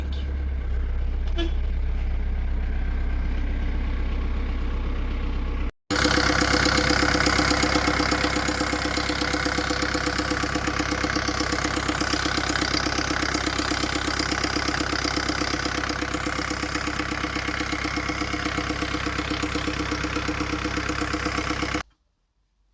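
A 2001 VW T4 1.9 TD turbo-diesel van engine runs steadily and loud, with continuous rumble and turbo whistle, briefly cutting out then resuming for a long stretch without talk.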